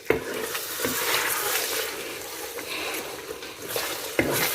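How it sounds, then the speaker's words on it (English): Tomatoes stirred in a cooking pot over low heat while preparing jollof rice, a steady scraping and bubbling sizzle running throughout with a few sharper knocks, fairly close and moderately loud, no talking. "I'm going to stir."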